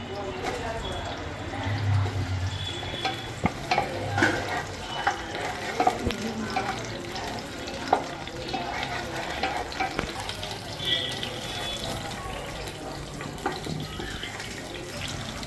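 Green chilies frying in a pan, with a continuous sizzle and scraping of a utensil, plus occasional clinks, close by with faint background voices.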